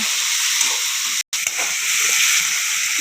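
Tomatoes and peanuts sauté in a hot pan for poha, giving a steady loud sizzle with a brief dropout partway through, close by and without talk.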